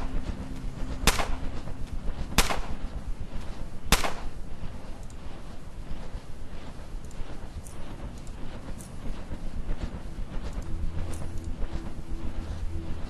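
Gunshots ring out during target practice in the game Underrail, three sharp loud reports spaced a second or so apart over a steady background hum, followed by fainter scattered clicks.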